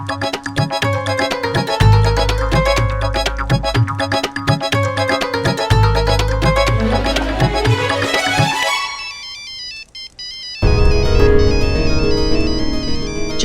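A loud musical phone ringtone plays a repeating melodic tune, then cuts off into a brief muffled pause before a different loud tone takes over.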